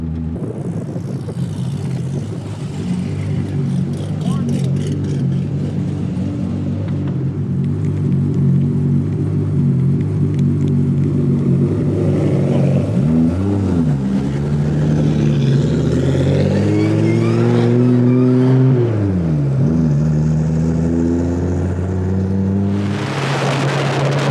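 A twin-turbo Mustang race car accelerates hard, its engine rumbling loud and steady with rising and falling rev sweeps in the latter half, heard from close by inside or near the car.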